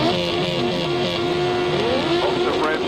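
Grasstrack racing motorcycles rev hard together at the start gate and then pull away, a loud, continuous, buzzing engine roar with rising pitch.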